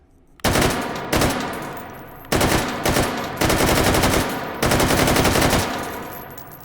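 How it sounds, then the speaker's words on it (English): AK-12 rifle fired in the VR shooting game H3VR: four loud, close bursts of rapid automatic gunfire separated by short pauses, each with a ringing tail. "Let's fire some shots."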